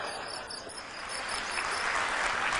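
Crickets chirp in a dense, steady high trill that carries on continuously without any talk.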